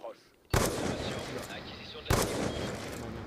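Sniper rifle fire in a first-person shooter game on the Nuketown map: two sharp, loud gunshots about a second and a half apart, each trailing into a long rumbling decay over game ambience, with a voice talking underneath.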